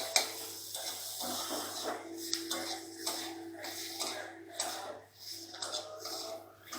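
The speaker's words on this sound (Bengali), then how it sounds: "এবার এতে দিয়ে দিচ্ছি পেঁয়াজ কুচি, দিয়ে ভালো করে নাড়াচাড়া করে নিচ্ছি।" Chopped onion and potatoes are stirred in a pan, with soft, repeated scraping strokes over a faint background sizzle, heard fairly quietly and up close.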